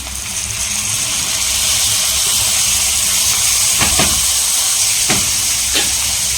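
Onions sautéing in a pan for a Tamil chicken curry, a steady loud sizzling hiss filling the whole stretch, with a few brief stirring scrapes near the end.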